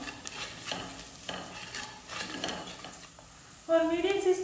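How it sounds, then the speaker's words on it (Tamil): Ground spices, cumin powder and chilli powder, stirred in a hot pan for Hyderabad ulavucharu chicken dum biryani; soft scraping strokes repeat at a steady pace, then a louder sizzle rises near the end. "நல்லா மிக்ஸ் பண்ணிடலாம்."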